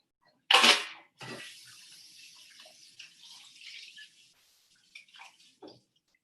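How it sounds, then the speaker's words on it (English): A cocktail glass rinsed under a running tap behind a bar, opening with a sharp splash, then a thin stream of water hissing for a few seconds before fading, with a few small clinks and drips at the end. "I'm gonna rinse this really quick."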